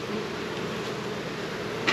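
Low, steady droning of honeybees around an opened hive during a weekly inspection, a continuous close hum with no talk, ending in a short rustle.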